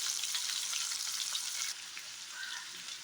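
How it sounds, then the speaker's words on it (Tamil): Onion, garlic and curry leaves sizzle in a pan over dried red chillies for pepper kuzhambu, a loud, steady hiss of frying up close that drops slightly in level partway through, with no talking. "வெங்காயம் பூண்டு கருவேப்பிலை எல்லாத்தையும் ஒன்றா போட்டுடலாம்"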